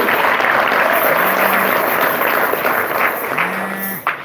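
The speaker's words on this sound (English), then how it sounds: "Give her a round of applause." Convention audience giving a round of applause, loud and sustained clapping from a large crowd that holds steady for several seconds before tapering off at the end.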